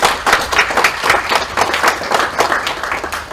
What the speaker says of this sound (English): Let's give him a round of applause